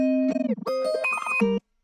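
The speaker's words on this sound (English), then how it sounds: "sounds like this, and then I put this one above it to make it sound even more glitchy." Two stacked, effected electric guitar layers in a hyperpop beat, stuttering and glitchy, with choppy pitch jumps over under two seconds before cutting off abruptly.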